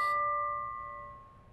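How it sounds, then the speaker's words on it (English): A single strike of an old fire truck bell at a fire house, a clear metallic ring that decays slowly with lingering tones, fairly faint and alone. "they would pull on the bell and they would ring the bell."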